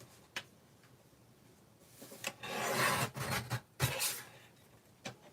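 Card stock being cut down on a paper trimmer, scattered close rasping and sliding scrapes with a few sharp ticks, fairly quiet, with no speech.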